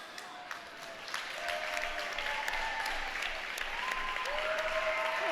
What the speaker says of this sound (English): Look at our team, though, all standing and clapping for them.